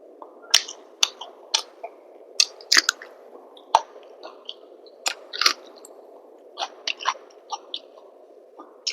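Someone eating chicken biryani at close range: irregular wet chewing and smacking bites, sharp and scattered over a quiet low hum, with no talking.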